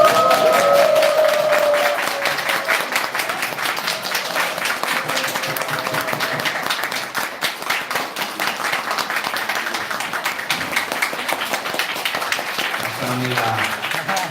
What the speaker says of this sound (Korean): 전부 다 기립박수를 해주시기 바랍니다